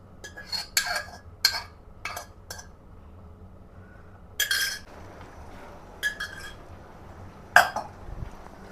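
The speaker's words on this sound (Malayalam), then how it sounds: "ഇത് നമുക്ക് ഈ വെള്ളത്തോടെ തന്നെ പാനിലേക്ക് മാറ്റാം കേട്ടോ." Cooked beef from a pressure cooker, tipped with its water into a pan for a Kerala-style roast: scattered sharp clinks and scrapes of metal utensils, a few close knocks between quiet pauses, no speech.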